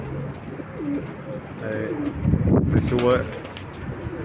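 Pigeons cooing close by in a loft on a windy day, several soft throaty coos repeating in short rounds, with a voice speaking briefly over them.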